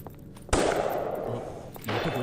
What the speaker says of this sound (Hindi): ये तो गोली चलने की आवाज है